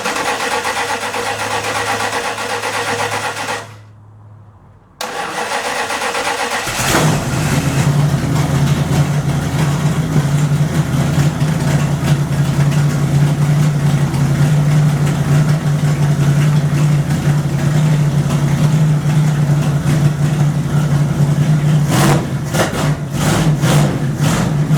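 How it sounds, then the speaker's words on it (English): A 1929 Chrysler engine cranks briefly, catches, then settles into a steady, fast high idle on the choke, a loud continuous low drone that runs close and unbroken to the end. "Put it up on high idle on the choke."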